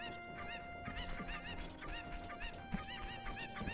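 Chickens (cuccos) in the video game The Legend of Zelda: Ocarina of Time give repeated honking, harmonic clucks in quick bursts over game background sound.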